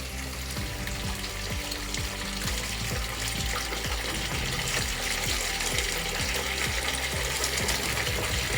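Tap water running hard from a home pressurization pump system, a steady loud rush with a mechanical ticking, whirring rhythm from the pump underneath, no talk.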